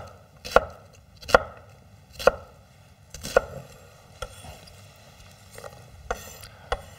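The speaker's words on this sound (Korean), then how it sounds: "지금 요 양파는 한 1cm 정도 폭으로 썰어주세요" A knife slices onion on a cutting board for a stir-fried cockle dish, with about eight crisp, evenly spaced chops, the first few louder and the rest softer, heard close with no talking.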